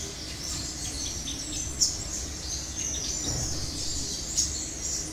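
A five-colored sunbird, an older wild-caught bird kept caged for sale, gives a few faint, sharp high chirps spaced seconds apart over a steady background hiss and low hum.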